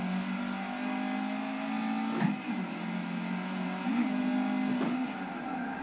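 A car engine drones steadily while drifting in the Forza racing game, a sustained tonal hum with small pitch wobbles and brief bumps as the car slides through a corner, no talking over it.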